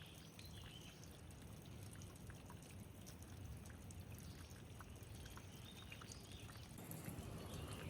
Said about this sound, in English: Slow waterfall.